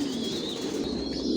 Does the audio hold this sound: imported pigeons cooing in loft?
yes